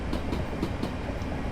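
A Southeastern passenger train runs in Train Simulator on the London Victoria to Orpington via Herne Hill route, giving a steady close rumble with a regular clickety-clack of wheels over rail joints.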